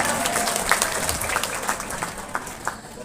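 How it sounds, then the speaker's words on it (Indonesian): An audience claps at a graduation ceremony for Quran memorizers who have completed all 30 juz, a brisk, dense burst of many hands applauding nearby that trails off slightly toward the end. "Orang tepuk tangan nih."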